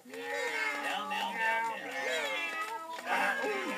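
A voice imitates a cat, drawing out a string of wavering, sing-song meows in quick succession, loud and close.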